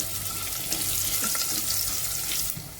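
Mustard seeds, cumin, asafoetida and garlic frying in hot oil inside a pressure cooker, a steady close hiss and crackle with scattered pops throughout, no talking.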